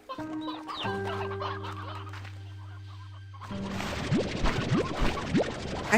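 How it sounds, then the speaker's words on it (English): Roosters cluck and squawk in a pen in Slime Rancher 2, first under a sustained musical drone, then louder and busier with rapid overlapping clucks close by. "Alright, there's plenty of roosters in here now."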